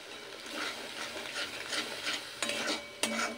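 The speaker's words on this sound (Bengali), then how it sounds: "এবার যেহেতু কাজু আছে অনবরত নাড়তে হবে, না তো নিচে মশলাটা লেগে যাওয়ার সম্ভাবনা থাকবে।" Cashew masala for shahi paneer with cauliflower is stirred continuously in a pan over a soft sizzle. Rhythmic scraping strokes run throughout, with two sharper knocks of the utensil against the pan near the end.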